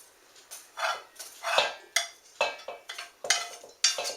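Cooked cornbread scooped into a dish, a run of about ten short scraping scoops and clinks of a utensil against the pan, fairly close and uneven in rhythm, no talking.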